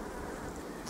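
Honey bees buzz at a hive in a dense, continuous hum that stays loud and even through the whole moment, with nothing else over it.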